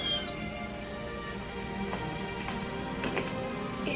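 Newborn kittens in a barn at night, four of them, giving thin, high mewing cries at scattered moments, faint and close over a quiet background hum.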